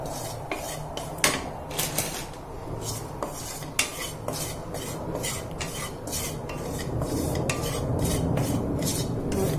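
Gram flour (besan) is roasted lightly in a pan while a metal spoon scrapes and clinks against it in a steady rhythm of close, sharp strokes.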